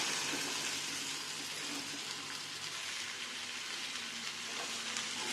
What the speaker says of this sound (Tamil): இது நல்லா சேர்த்து இந்த எண்ணெயிலே நல்லா வெங்காயம் தக்காளியோட நல்லா சேர்த்து நல்லா வதக்கி விட்டுக்கலாம்.